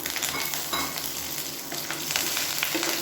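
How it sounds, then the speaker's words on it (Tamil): Curry leaves and dried red chillies fry in hot oil in a pan, a dense continuous sizzle with crackling bursts, close and loud with no talk. "நல்லா வறுத்து விட்டுக்கலாம்."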